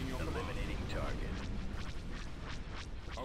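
Laser cannons fire in a Star Wars space battle in Thrawn's Revenge, a rapid run of short bursts building over a steady low rumble of combat.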